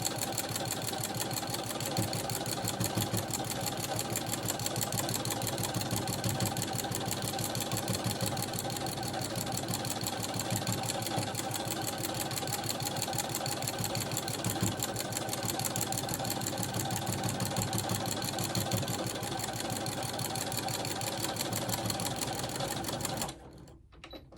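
A sewing machine stitches a wavy quilting line through layered quilt-as-you-go fabric, a loud, steady, fast mechanical rattle running unbroken throughout and stopping abruptly at the very end.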